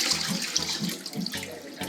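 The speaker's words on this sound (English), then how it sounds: "Drain this." Water from boiled saltfish drains into a kitchen sink while Bajan fish cakes are being made, a steady rushing pour that runs close and continuous with no talk.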